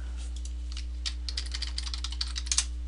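Quick, light keystrokes on a computer keyboard while entering a web address, a scattered run of soft clicks close by over a steady low electrical hum, no voices.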